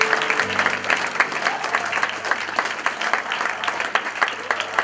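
A church congregation in Lyon breaks into steady, sustained applause, many hands clapping together at moderate distance, with faint voices mixed in beneath the clapping.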